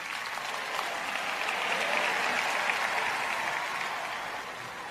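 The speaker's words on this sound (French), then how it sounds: "Applaudissez plus fort que ça, je ne veux pas rester ici longtemps." Sustained audience applause from a church congregation at a Christian ministry event, a dense steady wash of clapping that swells slightly midway and holds throughout with no voices over it.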